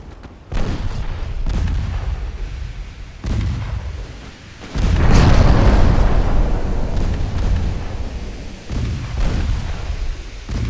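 Warship secondary batteries fire in a naval strategy game set in 1913, producing repeated heavy booms, some spaced out and some rolling together, loud and close with a sustained rumble between the blasts.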